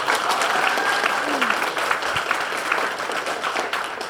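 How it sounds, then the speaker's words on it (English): Audience applause fills a large conference hall at a Roblox developer event, a steady dense wash of many hands clapping that holds evenly throughout without pause. "Deepak's clapping."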